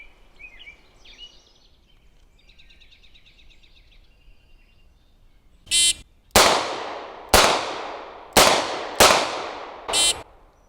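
A 940 revolver fires six loud, sharp shots at targets seven yards away, each crack ringing out and decaying, after an electronic beeping timer tone.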